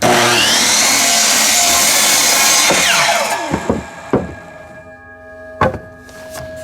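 A sawmill cuts timber for stakes with a loud, close, sustained whirring cut that spins down after about three seconds. Sharp wooden thunks and knocks follow as the pieces drop and are handled.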